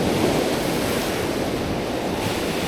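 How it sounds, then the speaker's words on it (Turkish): Sea waves break steadily on the shore at Mersin on the Mediterranean coast, with continuous loud surf and wind noise on the microphone and no voices. "Çok güzel dalga var."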